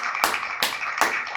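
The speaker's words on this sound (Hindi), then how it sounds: "let's clap for Jesus Christ" A church congregation in Pakistan claps for Jesus Christ, with three sharp, evenly spaced bursts of hand claps standing out over a steady backdrop of crowd noise.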